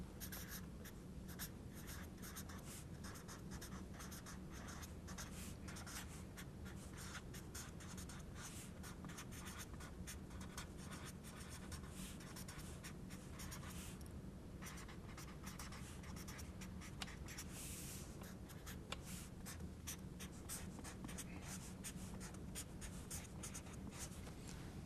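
Pen or marker scratching steadily across paper while working through integration maths notes, a continuous close scratching with short strokes and pauses, alone with no talk.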